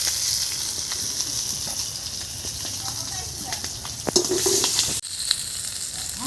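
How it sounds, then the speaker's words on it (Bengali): Fish sizzle loudly while frying in hot oil, a dense steady crackle close by. A short scrape and clatter comes near the end and is followed by a brief break before the hiss returns. Talk is faint underneath. "আমরা মাছগুলো একদম কড়া করে ভেজে নিয়েছি"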